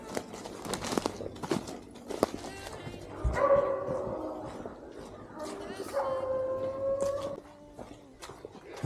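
A friendly stray dog met along the North Country Trail on a hike gives two drawn-out, wavering howls close by, separated by scuffing steps and a few short yips and barks amid outdoor rustle.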